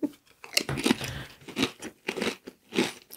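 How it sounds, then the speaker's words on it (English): Crunching on a prawn cocktail flavoured snack: close, crisp bites and chewing crunches come in irregular bursts, loud and near. "At least crunching is a nice sound."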